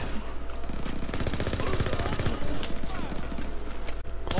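Rapid bursts of gunfire in Call of Duty WWII, a dense fusillade of close, loud shots rattling continuously with voices mixed in.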